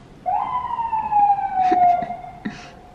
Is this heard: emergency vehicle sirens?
yes